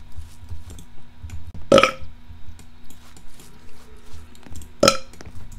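Two loud, abrupt burps stand out against a quiet background of game sounds and faint clicks, the first near the middle and the second toward the end.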